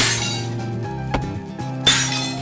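Glass object shattering inside a cat life simulation game, two sharp crashes of breakage over steady game music, close and fairly loud.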